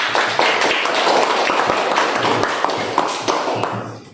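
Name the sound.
classroom applause, students clapping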